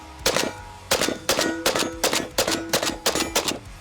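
Rapid bursts of AK rifle fire with heavy recoil, about eight sharp, loud shots in an uneven rhythm, each a broadband crack with a short ringing tail, no talking.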